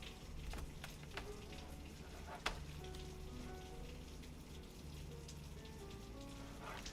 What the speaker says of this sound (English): You get rain sound effects in real time.